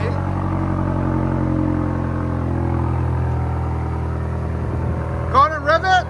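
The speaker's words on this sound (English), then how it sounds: "So there's the idle on it" A 2023 BMW XM 4.4-litre twin-turbo V8 with an X-pipe and Borla ATAK exhaust idles with a steady, low rumble throughout, and a voice speaks briefly near the end.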